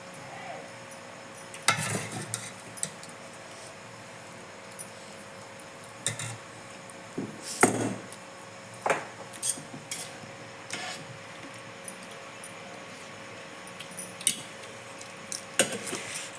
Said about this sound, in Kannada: ಅಪ್ಪಾಜಿಯರಿಗೆ ಅನ್ನ ಇಟ್ಕೊಡಕತ್ತಾರ ನಮ್ಮ ಅಮ್ಮಿಯರು ಈಗ ಸಾರ ಹಾಕತ್ತಾರ ನೋಡ್ರಿ